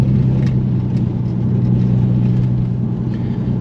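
A Mk1 Audi TT with the 3.2 V6 in sport mode pulls away, a loud, low, steady engine rumble heard from inside the cabin, continuous and even for a few seconds without speech.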